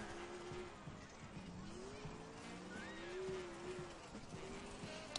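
A getaway Mustang in GTA IV drives hard with engine drone and repeated tire squeals sweeping across the run, with a voice briefly over it.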